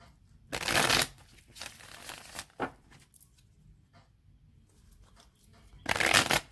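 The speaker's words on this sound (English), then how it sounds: "I'm going to shuffle this 3 more times." A deck of cards is riffle-shuffled close up, with quick fluttering bursts of cards, a couple of quieter shuffles between, and a final riffle.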